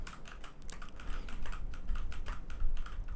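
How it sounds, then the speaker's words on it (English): Keys and spacebar tapped on a computer keyboard at a gaming-style pace: a steady run of crisp, close clicks with no talking, picked up by an AKG P120 or Audio-Technica AT2020 condenser microphone. "Now pressing on the WSD key, the spacebar, the R key"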